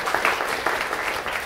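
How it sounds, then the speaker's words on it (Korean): An audience at a lecture applauds, a brief burst of steady, dense clapping from a crowd, heard close and filling the whole moment. "박수"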